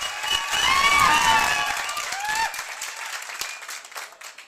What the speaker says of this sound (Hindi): तो एक बार जोरदार ताली अभिषेक सर के लिए